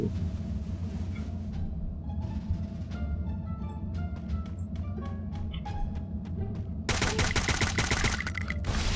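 Rapid bursts of gunfire from the video game Free Fire play loud and continuous over a steady game background. The firing grows denser and harsher toward the end.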